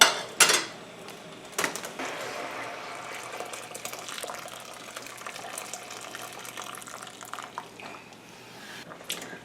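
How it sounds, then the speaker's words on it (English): Running water pours steadily into a metal cooking pot of noodles after a couple of clanks, a soft continuous splashing rush close by. "I'm going to need more water in this pot."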